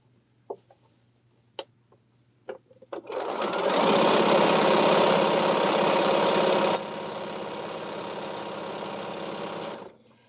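After a few faint clicks, a sewing machine stitching a quilt runs in a loud, steady rapid whir for several seconds, then drops to a slightly quieter pace before stopping.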